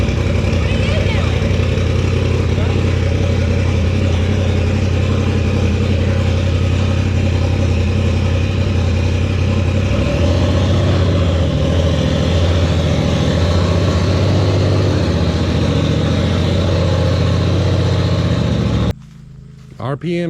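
A Polaris RZR engine with a stiffer CVT clutch spring runs loud and close during an RPM clutch test, droning steadily and shifting pitch midway before cutting off near the end, with a voice audible over it.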